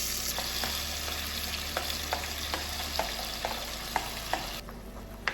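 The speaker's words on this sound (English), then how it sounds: "I'm gonna go ahead and saute my tomatoes" Tomatoes, onion and cilantro sautéing in a pan: a steady sizzle runs throughout, broken by regular spoon-stirring clicks and scrapes, with no talking.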